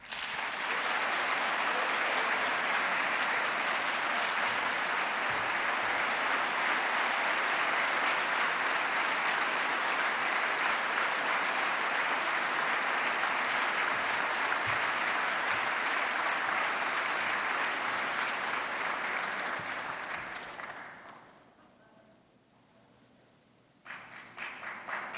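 Sustained applause from an audience at a city State of Metro address fills the hall loudly for about twenty seconds, then fades to near quiet before a brief return of clapping.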